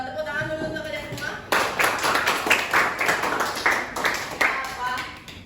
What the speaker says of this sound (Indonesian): Jadi kalian udah tepuk tangan dulu untuk kalian semua.